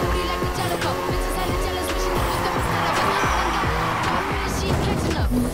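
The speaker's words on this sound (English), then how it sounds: "Keep that drift going." A car drifting in a street-racing game, its engine roaring loudly under continuous tire squeal, with rhythmic revving and shifting as the slide is held.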